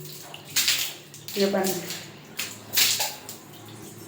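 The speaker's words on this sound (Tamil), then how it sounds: "இப்போ பாருங்கள், தண்ணி பச்சை தண்ணி ஊற்றுவோம்." Water poured over a freshly scrubbed bathtub during bathroom cleaning, several splashing gushes in separate bursts, close by, with a voice speaking briefly over it.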